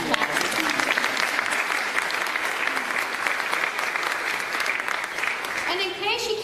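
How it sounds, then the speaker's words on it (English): A crowd at a program event breaks into dense, sustained applause that runs throughout and starts to fade right at the end. "go ahead and clap"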